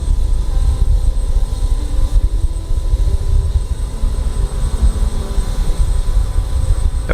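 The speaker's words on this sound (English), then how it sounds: "we can already start to listen to the sound of the APU spooling up" A jet's auxiliary power unit spools up in Microsoft Flight Simulator, a loud, steady engine drone and rumble that holds for the whole stretch with no talking.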